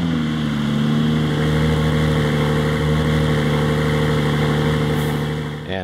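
A Porsche 981/718 Cayman on its original exhaust idles steadily and close by, a smooth, even engine drone that holds without revving for several seconds.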